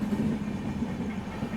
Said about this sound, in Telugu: మన ట్రైన్ ఇటు కంప్లీట్ 90 degrees కర్వ్ తీసుకుంటుంది